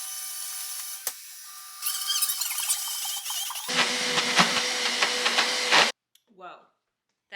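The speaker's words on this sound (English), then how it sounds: "go ahead and blend this up like it is a nut butter" A blender grinds hazelnuts into nut butter: loud, dense whirring in two rising stages lasting about four seconds, then it stops abruptly, leaving near silence with a faint brief clatter.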